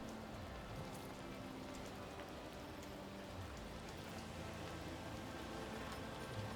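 Steady rain falling on a surface in the video game Warhammer 40k: Rogue Trader, a constant dense patter without pauses, fairly faint and even throughout.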